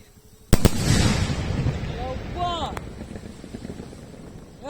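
A sharp firecracker bang followed by crackling bursts and whistling rising tones, with a loud crowd-like rumble underneath and another pop at the end.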